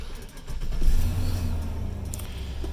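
A car with a slipping transmission runs while being shifted through its gears, a low steady engine hum that rises briefly as revs climb, then settles, heard close with faint background noise.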